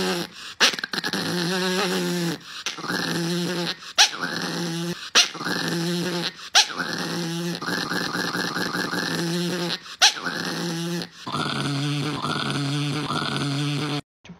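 A chihuahua growls and whines in a string of short, close, fairly loud bursts with brief gaps, alone without talk.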